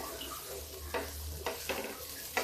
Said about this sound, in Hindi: इसको मैं फ्राई कर लेती हूँ।